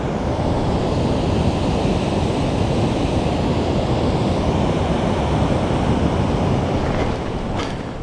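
A waterfall and stream at Little Niagara Falls along the Appalachian Trail near Katahdin, a loud, unbroken rushing roar of falling water filling the scene with no voices.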